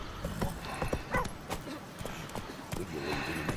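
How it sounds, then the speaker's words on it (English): Horse hooves clip-clop in The Witcher 3, a rhythmic run of hoofbeats with game ambience, heard under someone speaking Spanish. "¿me queréis dejar coger el puñetero caballo,"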